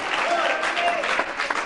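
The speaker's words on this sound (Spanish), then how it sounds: "Dale un aplauso al Cristo de la gloria." Congregation applauding during a church service, a short, fairly loud wash of clapping with a voice carrying over it.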